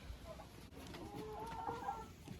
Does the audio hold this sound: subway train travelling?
no